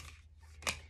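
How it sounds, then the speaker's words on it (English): A deck of tarot cards is shuffled by hand: quick, crisp papery bursts in short bursts, quiet and close, with no voices. "let me go ahead and shuffle my cards"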